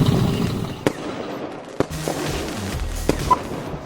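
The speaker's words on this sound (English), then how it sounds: "he has strung down lines on which are fixed fireworks, and they create his Sky Ladder." Fireworks fixed on lines strung from a balloon for the Sky Ladder artwork, a crackling roar broken by several sharp distant bangs and pops spread across the clip.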